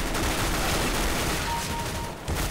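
Dense, rapid gunfire in the video game CS:GO, a loud continuous burst of overlapping shots filling the whole stretch with no talking.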